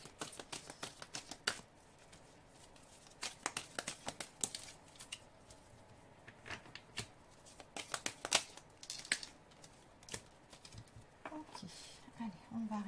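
Oracle cards are shuffled for a card reading, giving quick bursts of crisp riffling and flicking that pause and start again, close and fairly soft.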